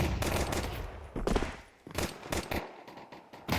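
Rapid bursts of automatic rifle fire and single shots in a competitive shooter video game match, irregular volleys clustered close together with short gaps between them.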